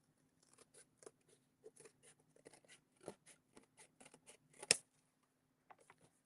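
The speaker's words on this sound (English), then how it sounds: "This is really hard to cut with scissors," Repeated crisp snips of scissors cutting through stiff cardboard, close up, in a quick uneven rhythm with one louder crunch.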